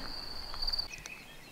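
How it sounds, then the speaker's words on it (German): Crickets chirp in a forested spot near the Lilienstein in Saxon Switzerland, a thin high trill that holds for a moment and then breaks off into a few short chirps, faint against quiet outdoor background. "Hört ihr das? Die Grillen?"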